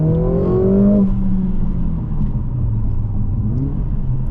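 A 2023 Mercedes-AMG GLA45 with its four-cylinder engine revs hard while driving, a loud rising note that falls back into a steady, rumbling cruise.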